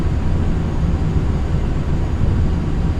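An airliner in Microsoft Flight Simulator 2020, flaps set to 8 degrees and thrust near 60% N1, gives a steady low engine roar that stays loud and even throughout, with no voices.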